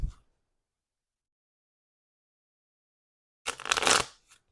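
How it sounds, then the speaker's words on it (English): A brief riffle of cards being shuffled after a long silence, a quick crisp burst of flapping paper lasting about a second. "So give it a couple quick shuffles here."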